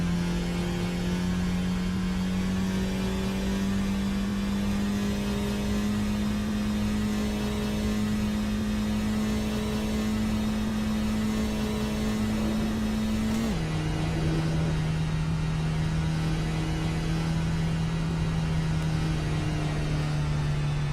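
Geo Metro engine held at full throttle in the Assetto Corsa racing game, a loud, constant droning whine that dips abruptly in pitch once partway through, then carries on steadily with no talk.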